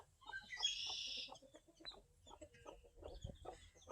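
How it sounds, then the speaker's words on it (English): Broody hens cluck softly and repeatedly at close range on a homestead in springtime, with a brief higher squawk early on and quiet farmyard background. "With the springtime comes broody hens"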